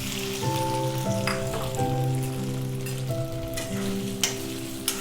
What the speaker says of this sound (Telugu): ఆయిల్ వేడయ్యిందండి. మనం తయారు చేసుకున్న గుడ్లు జున్ను ముక్కల్ని వేసుకోవాలి.